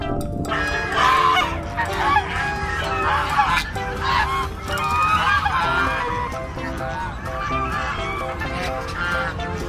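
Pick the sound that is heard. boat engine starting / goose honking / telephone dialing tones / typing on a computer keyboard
goose honking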